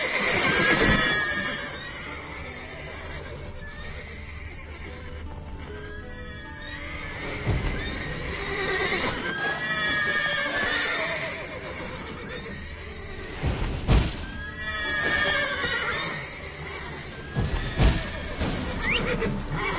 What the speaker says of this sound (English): Gotta call all the horses before they wake the guards.